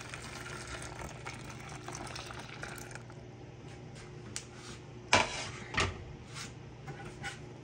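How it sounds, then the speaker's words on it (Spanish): Milk poured into a homemade dessert mixture, a steady liquid trickle for a few seconds, then quiet kitchen sounds with a couple of sharp knocks of a container or utensil. "Y ya cuando esté la leche, la voy a incorporar acá"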